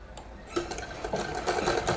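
A sewing machine stitches a pocket onto a frock suit, giving a soft, rapid mechanical chatter that picks up partway through and continues steadily at close range.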